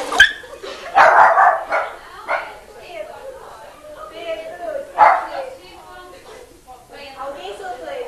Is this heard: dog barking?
yes